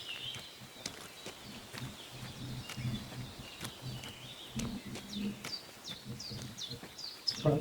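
Simulated birds in Kingdom Come: Deliverance II give repeated short chirps scattered over a quiet outdoor ambience, with soft thuds like hooves or footsteps and faint talk underneath.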